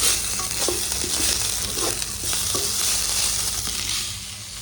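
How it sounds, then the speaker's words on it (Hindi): Rice with freshly added coriander cooking in a pan on the stove, a steady soft sizzle with occasional light stirring scrapes and clinks, close and continuous without talk. "इसको थोड़ी देर पका देते हैं, जिससे थोड़ी देर धनिया भी थोड़ा पक जाएगा"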